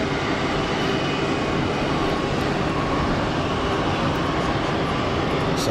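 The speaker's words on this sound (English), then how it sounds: "Toolbox Saudi A320 about to fly over my house" Saudi Airbus A320 passing overhead near Geneva Airport, a steady, loud broadband jet roar filling the whole stretch without letup and no voices.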